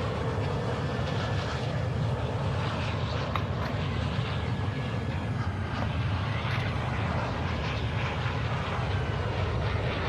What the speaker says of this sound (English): I can't hear anything over the airplane.